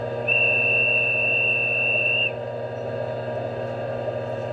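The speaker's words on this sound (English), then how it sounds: "your classic conductor whistle" A single sustained, steady high-pitched conductor whistle sound effect from an LGB 2140 GE 6/6 I Krokodil model train with ESU sound, lasting about two seconds over a constant low mechanical hum.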